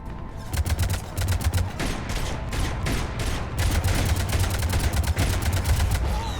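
Mass Effect 3 battle audio with rapid, sustained bursts of gunfire and cannon fire, dense volleys crackling nearly nonstop and loud throughout, with a deep rumbling undertone.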